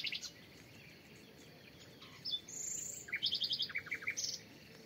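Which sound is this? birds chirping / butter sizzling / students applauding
birds chirping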